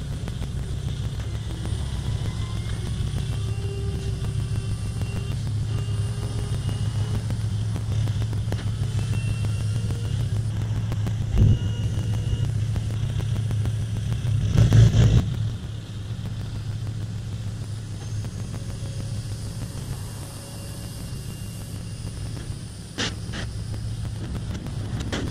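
A truck idles with a steady low rumble while a homemade dump trailer raises its load. The drone is continuous and fairly loud, with a brief surge near the middle and no voices.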